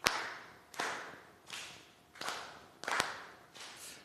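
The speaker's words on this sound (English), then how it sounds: "it's quite nice to try and feel the beats move around while clapping" Hand claps ring out sharp and close, about six of them in an uneven rhythmic pattern over four seconds, some landing in quick pairs, each with a short bright decay into a quiet room.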